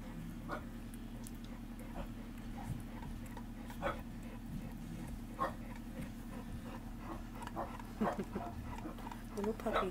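Sleeping bullmastiff puppies give soft intermittent whimpers and squeaks, faint and close, over a low steady hum, with no speech.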